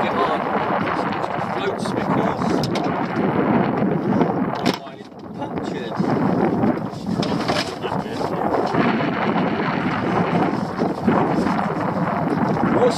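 Strong wind off Guernsey buffets the microphone on a fishing boat at sea, a loud, continuous rushing roar with a brief lull midway and a voice talking underneath.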